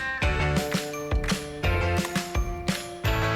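Metal clicks and ratcheting bursts from a hex or torque key alternately tightening the side pinch bolts on a bicycle stem, several short, close, evenly spaced clusters with no talk.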